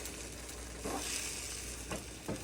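Egg frying in a non-stick pan, a steady close sizzle with a few brief scraping stirs as it cooks, no voices over it.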